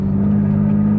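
A car with a modified exhaust cruises at steady speed, its low engine drone and rumble continuous and close throughout, with no talking.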